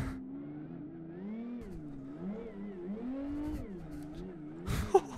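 A car drifting in the racing game Live for Speed, its engine note rising and falling steadily at high revs for several seconds, then a brief louder burst of noise near the end.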